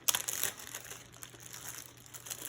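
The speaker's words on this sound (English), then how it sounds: "Remove the ball of clay from the plastic bag." Plastic bag crinkling and rustling as a ball of air-dry clay is pulled out for a kindergarten pinch-pot project, a close, soft burst of crumpling up front that settles into lighter intermittent rustles.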